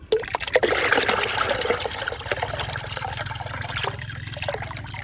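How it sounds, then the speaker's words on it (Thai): Mushroom spawn is stirred into water in a bucket, making a close, continuous sloshing, trickling wash of liquid with faint splashes and no speech. "แล้วก็จะต้องเอาเชื้อเห็ดนี่ครับ ผสมลงไปลงไปในน้ำเลยนะครับ"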